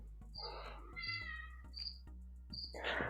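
A cat meows several times from close by while wanting to be let in, short rising calls separated by pauses, over a quiet indoor background.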